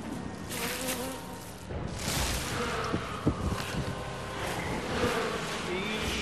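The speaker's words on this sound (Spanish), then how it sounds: "Porque quería que las abejas te picaran." Bees buzzing in the video game Resident Evil 6, a dense steady insect drone running throughout beneath game effects and a voice.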